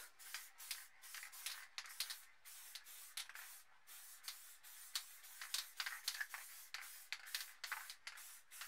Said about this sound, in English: We're going to spray a mountain outline first.